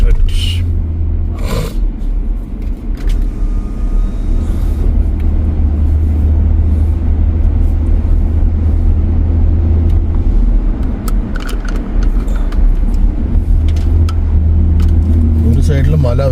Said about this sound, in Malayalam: ഈ ഡാമിൻ്റെ ചുറ്റും നമുക്കിങ്ങനെ വണ്ടി ഓടിച്ച് കളിക്കാം